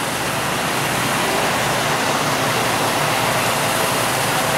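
Loud, steady broadband roar of rushing flood water during the 2018 flood, a continuous wash of noise filling the whole clip with no pauses, heard close by in a flooded street where fire trucks pump water from buildings.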